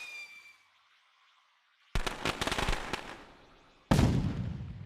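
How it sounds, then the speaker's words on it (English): A firework in LittleBigPlanet 3 bursts with a sharp crackling blast, its sparkling tail fading over about two seconds before a second loud burst hits. The clip opens with a brief tonal game sound and then a near-silent gap. "You'll see that the firework appears and spins"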